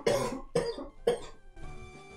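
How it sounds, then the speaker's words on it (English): Three sharp coughs in quick succession, close and fairly loud, followed by a short trailing breath. "I'll be lowering that cough down a little bit"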